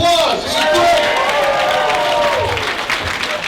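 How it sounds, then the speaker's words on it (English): An indoor stand-up comedy crowd breaks into loud, sustained applause with some cheering, a dense wash of clapping that holds steady for a few seconds and only slightly thins toward the end, with a voice carrying over it. "Give yourselves a round of applause"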